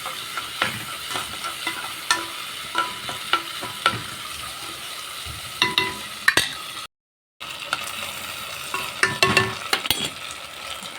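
Rice turned in ghee in a pan, giving quiet frying sizzle under repeated scrapes and clicks of a spoon against the pan, with no one speaking.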